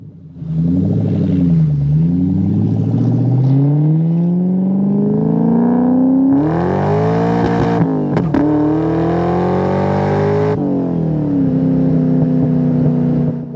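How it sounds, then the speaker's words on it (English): A supercharged 2003 Ford Mach 1 with a 4.6 V8 and five-speed manual accelerates hard from inside the cabin, its engine note and blower whine climbing through the revs, dropping sharply at two gear shifts, then pulling again, loud and close. "this thing pulls really well when you get into the throttle"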